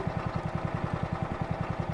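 A steady, low tractor engine in Minecraft idles with a fast, regular rhythmic chug, mechanical and continuous, like a heavy tractor motor ticking over close by.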